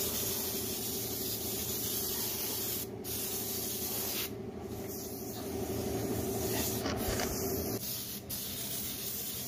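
Rubber underbody coating sprayed onto a Maruti Omni van, a continuous close hiss of the spray gun running steadily with brief pauses and small shifts in intensity.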